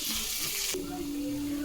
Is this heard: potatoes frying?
yes